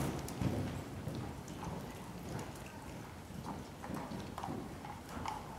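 Hooves of a ridden horse during a riding lesson, a steady clip-clop rhythm of soft thuds over outdoor background noise, with no talk.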